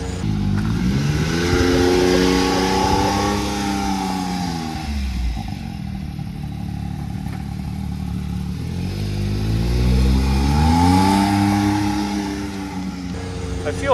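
A 2022 Can-Am Maverick X3 XRS side-by-side on a dirt trail lap at Lockhart's, its engine droning and rising and falling in pitch as it accelerates and eases off, with voices talking over the ride.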